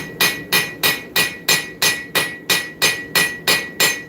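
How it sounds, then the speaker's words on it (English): Round face of a turning hammer striking hot steel on an anvil while forging a seax knife: about a dozen sharp, ringing blows in a steady, even rhythm, close and loud with no talking. "we're going to take that turning hammer, the round side of it"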